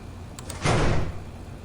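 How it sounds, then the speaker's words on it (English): A door sliding and thudding shut in a horror video game, one close, fairly loud sweep with a low rumble, preceded by two faint clicks. "Closing that door, I don't trust it."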